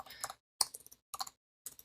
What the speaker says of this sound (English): Why am I so bad at typing?